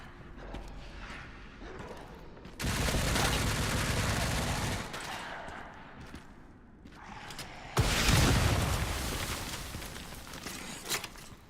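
A rocket launcher fires in the Resident Evil Requiem video game: two loud, sustained blasts with roaring tails, close, set against quieter game ambience and faint footsteps.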